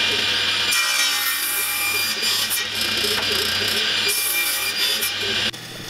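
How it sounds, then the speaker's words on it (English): A table saw with its blade set to half height cuts a 2x4 board in a woodworking shop. A steady, close whine with gritty cutting noise runs throughout, swelling during the cut and dropping sharply near the end. "Taking a 2x4, I set the blade height to halfway, make a cut, flip over and repeat."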